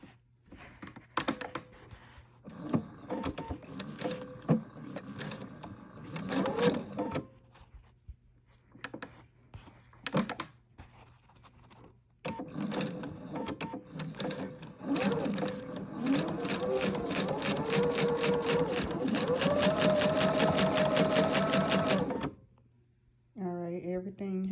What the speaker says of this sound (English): I can just sew it all the way down on both sides.